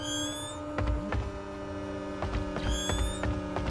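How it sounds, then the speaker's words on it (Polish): Steady electrical hum from a refrigerator, fairly loud and constant, with occasional faint clicks and creaks. "Ale lodówka głośno chodzi."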